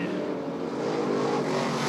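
Race cars roar continuously around Rockford Speedway during a bracket race, a steady loud engine drone from several cars at once with no talking.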